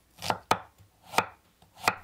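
A knife slices half an onion very thinly on a cutting board, four crisp chopping strokes at an uneven pace, close and clear with no talking.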